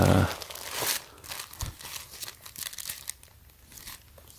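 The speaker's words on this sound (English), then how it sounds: "So they're wrapping this tissue paper" Tissue paper wrapped around a Talbots black jersey dress crinkles and tears as the package is opened. The rustling and ripping is close up, starting loud and then settling into softer, uneven crackles.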